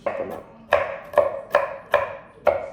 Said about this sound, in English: what I do actually need to do is chop up some more walnuts